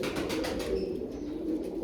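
Pigeons coo softly and continuously in a family loft, a low steady murmuring close by with no talk over it.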